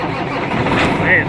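An engine cranking and catching after a repair, a rough rumbling start that settles into running, heard close with people talking over it.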